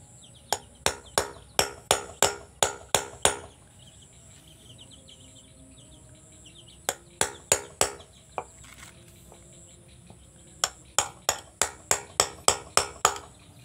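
A chisel taps repeatedly while a woven bamboo mat is being made, with sharp, loud, close strikes in quick evenly spaced runs of about ten, separated by pauses, while birds and insects sound faintly in the background.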